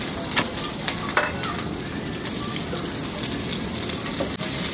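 Thick-cut onion and garlic cloves frying in oil in a wok over medium-high heat: a continuous dense sizzle with intermittent stirring scrapes, close and steady throughout.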